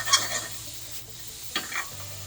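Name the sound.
butternut squash caramelizing and sizzling in a pan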